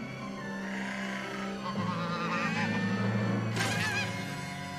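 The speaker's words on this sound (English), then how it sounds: "What are you doing in here, Mr. Goose?" A goose honking in the film Pearl, a few nasal honks and squawks over a steady background hum, moderately loud, with a sharper cry near the end.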